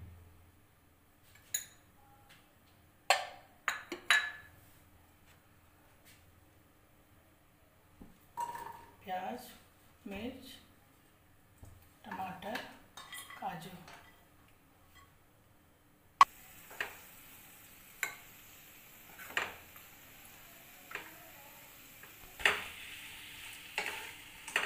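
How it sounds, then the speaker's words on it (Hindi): Spices with turmeric and red chilli powder stirred and fried in a spoonful of oil in a pan on a gas stove, with irregular spoon scrapes and knocks, then a steady sizzle underneath as stirring continues. "2 चम्मच सबको मिला के भून लेंगे।"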